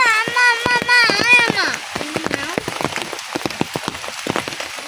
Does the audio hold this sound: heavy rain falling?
yes